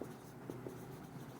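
Chalk or marker writing on a board in a classroom gives a few soft, brief scratching strokes, faint and close over a low room hum.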